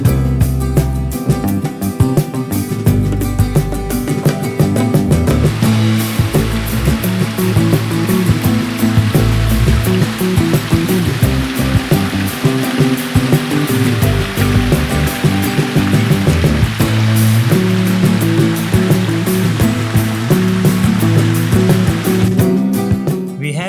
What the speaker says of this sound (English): this is Nazarmatha Waterfall